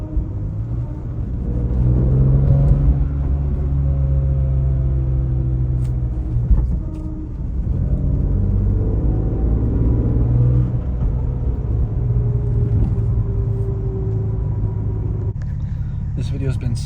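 BMW E46 M3 rear differential whining and droning while driving, a steady loud drivetrain rumble with rising and falling tonal whine that swells when the clutch is pushed in, under ongoing talk.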